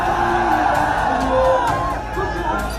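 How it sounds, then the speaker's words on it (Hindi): Supporters at a Samajwadi Party rally in Uttar Pradesh whoop and shout in a loud, dense mass, with voices rising and falling continuously and a few individual yells standing out above the crowd. "समाजवादी पार्टी की रैलियों में आने वाली भीड़ की वानगी देख लीजिए"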